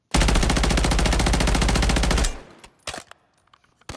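A new AR assault rifle in Modern Warfare 3 fires one sustained full-auto burst of rapid, evenly spaced, loud shots for about two seconds, then stops, leaving a few scattered clicks and thumps.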